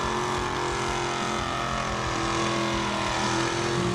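Car doing a burnout at Summernats 38 in a charity run for the McGrath Foundation, a steady, loud, dense engine roar with tyre noise that holds without pause throughout.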